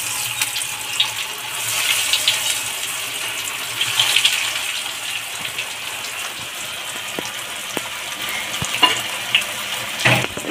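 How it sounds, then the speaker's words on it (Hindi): Paneer cheese cutlets crackle in hot oil over high heat, a dense close sizzle with watery spattering and scattered sharp pops, without any talk. "तो कटलेट डालते हैं, तेज आंच पर फ्राई करें।"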